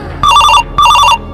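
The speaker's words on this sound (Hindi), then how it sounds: "तो फोन लगाओ उसको" Two loud, close electronic telephone rings, each lasting about a third of a second, separated by a short pause, with no voices.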